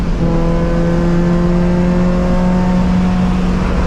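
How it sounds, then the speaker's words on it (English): Car engine holding a steady, loud drone while driving Sepang Circuit, a constant in-car hum with no clear gear change heard. "Stay in 3rd gear, just brake a bit. 4th gear, then lift off the gas pedal."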